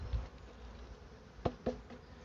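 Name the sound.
honeybees buzzing around a small hive swarm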